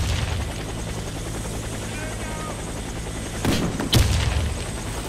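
Helicopter rotor drone in the shooter game Warface, steady and continuous, with a couple of sharp gunfire or explosion bursts near the end and no talking over it.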